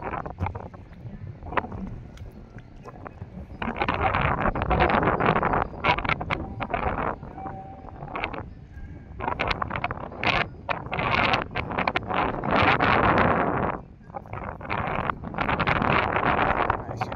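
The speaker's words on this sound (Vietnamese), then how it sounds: "Chiều nay gió quá trời rồi." Strong afternoon wind buffeting the microphone outdoors in a rice field during seed sowing, loud irregular gusts rumbling and roaring in bursts with brief calmer gaps.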